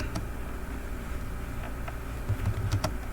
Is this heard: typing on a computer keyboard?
yes